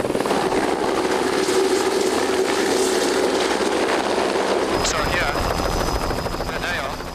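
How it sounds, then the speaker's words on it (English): A helicopter's steady, loud rotor and engine roar fills the clip, with a voice speaking over it, as it flies over an African black rhino sanctuary. Partway through, the tone changes abruptly as the engine sound shifts. "Keeping in touch with the ground crew by radio, the helicopter quarters the sanctuary."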